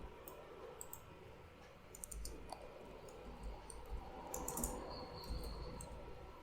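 Keys tapped on a computer keyboard while entering a heading in WordPress: scattered light clicks in short bursts over a faint room hiss, close and quiet, with no talking.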